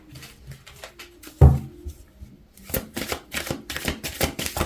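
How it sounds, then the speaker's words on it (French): Tarot cards being shuffled and laid down for a horoscope reading: a bump and soft handling, then a loud, close burst of rapid riffling card shuffles, with no speech. "Je vais mettre 2 cartes supplémentaires."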